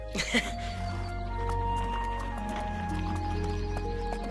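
A horse whinnies loudly near the start, then hooves clip-clop in a quick, steady rhythm over a constant low rumble.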